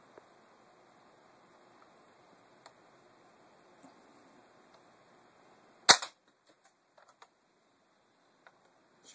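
A modified Nerf Longstrike CS-6 foam dart blaster fires once, a single sharp snapping shot standing out from a near-silent background, followed by a few faint small clicks.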